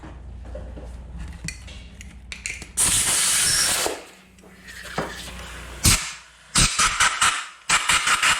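Bursts of hissing spray from a compressed air nozzle cleaning a 2005 Honda Shadow 750 carburetor, some long and some short, alternating with metallic clinks and handling noises.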